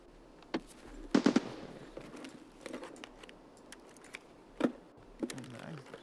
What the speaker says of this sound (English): I'm running a G36 right now.